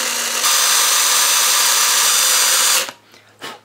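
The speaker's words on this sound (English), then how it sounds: "So we'll drill this little hole out now." A power drill boring a small hole in an RC boat hull, a loud steady high whine for about two and a half seconds, then stopping, followed by a short second burst.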